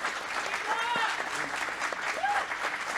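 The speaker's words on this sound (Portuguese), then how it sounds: "Palmas para o Hermínio." Audience applause for the writer and producer Hermínio Belo de Carvalho at a book fair, steady clapping filling the whole stretch with a few faint voices and whistles over it.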